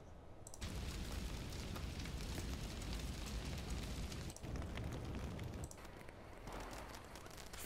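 Explosion sound effect from the Far Cry 5 map editor in a video game: a loud, continuous roaring rumble with crackling debris that sustains for several seconds, with a brief dip midway, and no voices.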